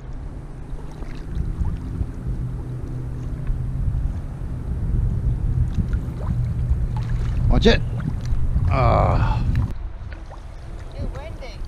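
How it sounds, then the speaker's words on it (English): Gusty wind roars and buffets against the microphone out on a boat on open water, a steady low rumble that swells in the middle, with a brief spoken warning heard over it. "It's windy. Windy, huh?"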